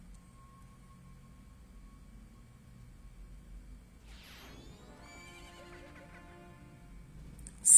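A horse in the video game The Legend of Zelda: Majora's Mask lets out a single whinny midway, a short, fairly clear neigh over faint game ambience, ending in a sudden louder burst.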